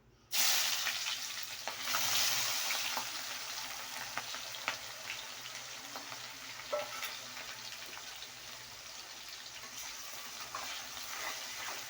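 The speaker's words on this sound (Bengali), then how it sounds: "তারপরে পেঁয়াজটা ছেড়ে দিলাম।" Onions frying in a pan while cooking chicken masala, a sudden burst of bright sizzle as they hit the hot oil, then settling into a steady crackling hiss, close and alone.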